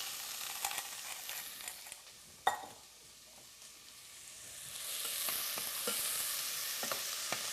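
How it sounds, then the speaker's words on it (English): Onion and garlic sautéing in hot oil, a steady sizzle that swells over the clip, broken by a few sharp clicks and scrapes of stirring, close up and with no voices. "Now to my oil, I've got 1 onion and a little bit of garlic that we're going to put in there."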